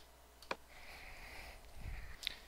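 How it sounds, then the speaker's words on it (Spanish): A computer mouse clicks a few times while editing in Photoshop, sharp faint ticks, one near the start and a quick pair near the end, over quiet room tone with a soft electronic tone between. "Si ya estoy de acuerdo con esto, le hago doble clic."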